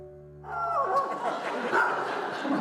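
Dog barking and yipping in an outdoor setting, one of several dogs on a long-distance walk along Hadrian's Wall, with a broad noisy wash of sound starting after a quiet moment and continuing close and steady.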